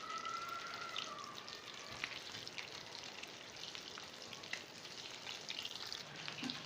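Potato and egg patties shallow-fry in a pan, giving a faint, steady crackling sizzle with scattered soft pops throughout and no talking.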